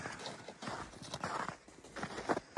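A mare's hooves clip-clop on the ground at a steady walking pace, moderately close, with no voices over the footfalls.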